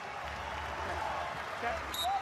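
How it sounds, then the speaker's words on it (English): A crowd at a college wrestling dual meet between Ohio State and Michigan keeps up a steady, noisy roar with shouts and whistles, while a commentator talks over it. "Crowd excited."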